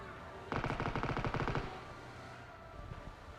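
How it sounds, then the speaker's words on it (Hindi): A burst of rapid automatic gunfire rings out in the video game PUBG, about a second of steady shots at moderate distance, followed by quieter ambient game sound. "जब मैं राउंड मार रहा हूँ तब जाके मुझे फायरिंग आती है एक"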